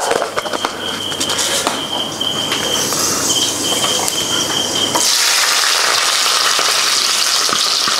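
Cumin and fenugreek seeds sizzle in hot oil for a fish curry, a steady close hiss that swells into a louder, brighter crackle after a few seconds, with no talking.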